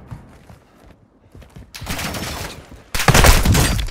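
Gunfire in Warzone 2.0 on PS5, starting quiet and sparse, then bursts of loud, close automatic fire that grow heavier toward the end.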